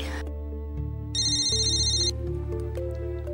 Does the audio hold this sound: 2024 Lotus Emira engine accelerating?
no